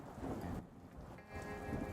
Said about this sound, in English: Oh, the thunder sounds cool.